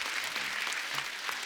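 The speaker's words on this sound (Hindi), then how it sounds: "इनके लिए जोरदार ताली हो जाए।" A studio audience at a Hindi comedy show breaks into steady applause, dense and even for the whole short stretch.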